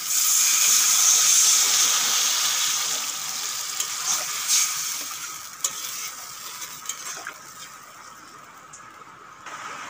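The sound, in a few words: water poured into pan frying pumpkin, potato and shrimp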